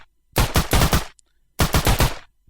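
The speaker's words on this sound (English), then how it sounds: "if I click the mouse button, it fires a bullet and ejects the cartridge from the side" Animated gun firing bullets and ejecting cartridges in a game engine, two quick bursts of close, loud rapid shots, each about four rounds, separated by a short pause.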